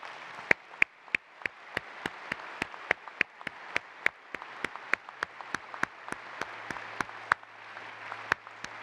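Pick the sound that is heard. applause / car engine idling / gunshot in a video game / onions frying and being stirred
applause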